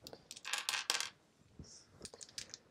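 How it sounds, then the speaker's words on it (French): Wooden board game tokens and meeples being mixed by hand, a dense clattering rattle of small pieces up close, in bursts with short pauses and scattered clicks, no talk. "On va mélanger les jetons, les meeples, et on va en mettre un au hasard sur chacune des cases."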